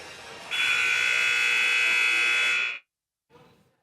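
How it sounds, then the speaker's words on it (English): A loud, sustained electronic buzzer at a high school basketball game, Wahpeton Huskies vs Killdeer, sounds steadily for over two seconds in a gym, then cuts off sharply, followed by brief faint crowd noise. "we're ready for the buzzer"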